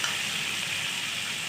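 Charsi karahi sizzles and fries hard in a wok while being stirred, a loud, close, continuous hiss with no talk.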